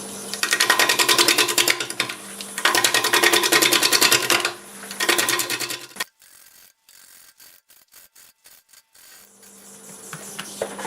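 A wood lathe spins a black walnut blank at about 625 RPM. A dense, rasping buzz of tool contact comes in bursts, then drops to a quiet stretch of sparse ticks before the cutting noise returns faintly.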